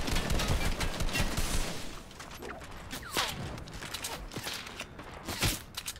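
Sniper rifle fire in a video game: sharp cracks and shots ring out amid a busy game soundscape, with a dense burst early on and scattered shots and mechanical clicks afterward.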